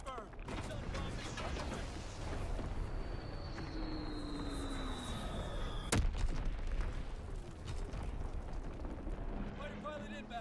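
Artillery barrage in the multiplayer of the World War II shooter Call of Duty WW2, heavy rumbling blasts and booming impacts rolling through the battle din, with one sharp crack standing out midway and voices heard alongside.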